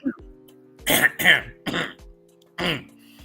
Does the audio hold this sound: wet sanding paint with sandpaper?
no